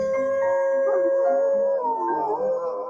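Animals at a memorial site howl in long, mournful, wavering tones, several voices overlapping and sliding in pitch, steady and fairly close with no talking.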